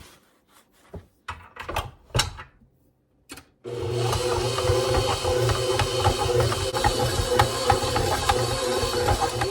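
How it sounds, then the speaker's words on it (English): A stand mixer fitted with a dough hook kneads sourdough cinnamon raisin bread dough with raisins. A few clunks and knocks come first, then a loud, steady motor whir with rhythmic churning runs to the end, with no talking. "I'm going to let this just knead for a while and mix"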